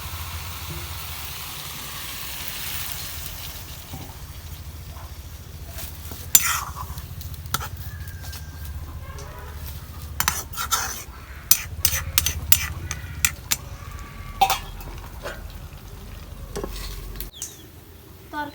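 A spoon stirs taro curry with fish frying in a pan: a faint continuous sizzle runs underneath while metal utensils scrape and clink against the pan in irregular bursts, growing busier toward the end.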